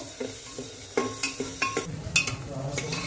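Ground masala paste is stirred in a pan with quick, uneven scraping knocks of a spoon against metal over a soft sizzle, close and moderately quiet.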